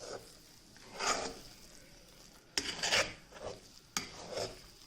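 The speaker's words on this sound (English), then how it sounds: "Now you have to continue stirring it occasionally and cook it." A spoon scraping and stirring plantain flower and chana dal paste in a pan over a low flame, giving a few soft rasping strokes spaced out, then sharper scrapes, alone without talk.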